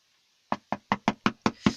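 Seven sharp knocks on a door at night, evenly spaced and loud, starting after a short silence with no voices.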